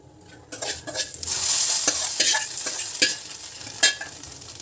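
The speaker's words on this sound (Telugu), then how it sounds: "పోపు వేగిపోయింది, చట్నీలో వేసుకుందాం" Tempering (popu) for neer chutney sizzles loudly as it is poured in, with crackling spits, a few sharp pops and clinks of a utensil against the pan.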